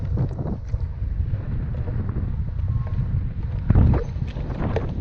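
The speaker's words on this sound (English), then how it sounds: "Oh, that wind." Wind gusts buffet the microphone on an abandoned stretch of the Pennsylvania Turnpike, a loud, rumbling low roar that swells and dips, with a stronger gust near the end.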